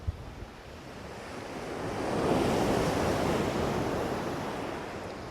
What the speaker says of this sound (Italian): Guardate che meraviglia queste onde.